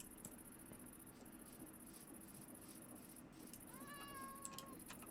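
A cat in the video game Minecraft gives one faint, drawn-out meow near the end over a steady background hum.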